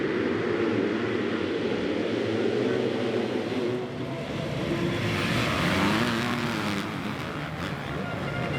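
Yamaha supercross motorcycles at a race start on a track in St Thibéry, France, a loud steady roar of engines that rises and falls as the field pulls away, with commentary running over it.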